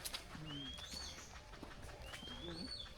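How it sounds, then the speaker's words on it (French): Soft cooing from doves or pigeons, with a couple of high whistled bird calls sliding over a faint outdoor ambience on Rangiroa, French Polynesia. The calls come and go at a gentle pace. "On n'entend que les oiseaux. Le chant des oiseaux."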